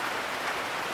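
Heavy rain falls around a quail and chicken enclosure, a dense, even hiss of drops on surfaces, loud and continuous with no pauses or talk.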